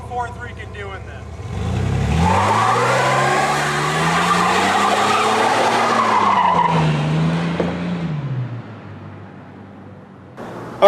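A car's 4.3 engine revs up loudly and holds a rising, droning roar for several seconds, with a squealing edge, then fades back down toward idle.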